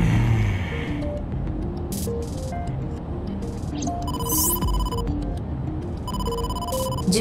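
A phone rings in the video game AI: The Somnium Files, a repeating electronic ringtone over a dense, loud background of game music and ambience.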